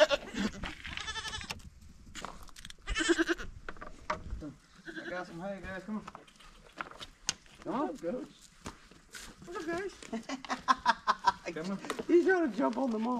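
Goats and young kids bleat repeatedly at close range on an off-grid homestead, with footsteps moving around and a person talking between and over the calls.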